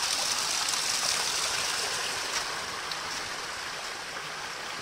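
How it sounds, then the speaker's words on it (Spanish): Mountain stream water pouring steadily from a water outlet along a trail, a continuous close broadband rush and gurgle that stays even and fairly loud throughout, with no talking. "Zona de salida de agua, ¿eh?"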